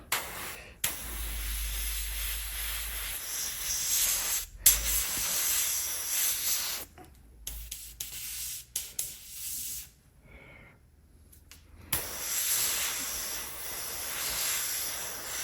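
Airbrush spraying a fine paint mist onto a 3D printed figure: steady broadband hissing bursts that start and stop several times, with short quiet gaps between passes, close and moderately loud.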